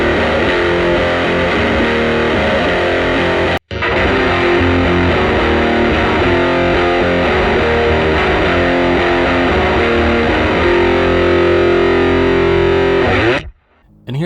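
Distorted electric guitar through a Quad Reverb amp, captured by a 4038 mic, playing loud, dense chords with a brief break near four seconds and an abrupt stop at the end.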